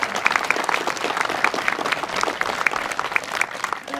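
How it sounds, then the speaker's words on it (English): Crowd applause at an outdoor memorial run, steady dense clapping from many hands filling the scene with a few sharper nearby claps standing out, sustained throughout. "And maybe give them a round of applause."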